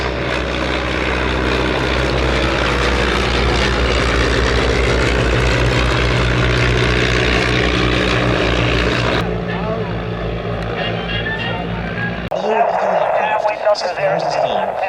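A de Havilland DH-60 Moth propeller biplane flies at the Shuttleworth Festival of Flight air display, its engine a loud, steady droning roar that shifts in tone near the end, with a commentator talking over it.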